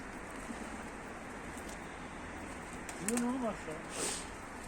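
A bird gives a short, soft coo against a steady background rush of noise, with a brief higher chirp shortly after.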